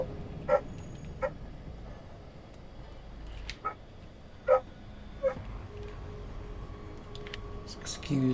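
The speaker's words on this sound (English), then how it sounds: "Excuse the dog barking if you're hearing that." A dog barks faintly in the background during a Deus Ex: Human Revolution session, several short sharp yips spaced irregularly over a low steady hum.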